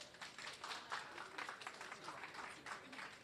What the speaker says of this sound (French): Bravo Sabrina, je crois qu'on peut l'applaudir.